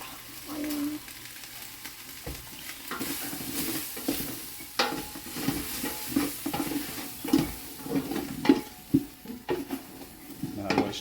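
Already-cooked steak and potatoes being stirred together in a pan over low heat, with a soft sizzle under frequent utensil scrapes and clanks against the metal, close and busy throughout.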